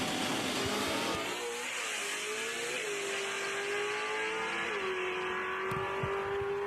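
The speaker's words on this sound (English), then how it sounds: "I'll shut up so you can listen to Bustle's car." A turbocharged LS-powered Fox body Ford drag car accelerates hard down a dragstrip, its engine note climbing loudly and steadily with a brief gear change, carried over the open track.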